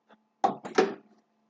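A Sveba Dahlen S-series combi oven door is opened by its handle, giving a short clunk and a double latch knock close by, with no talk.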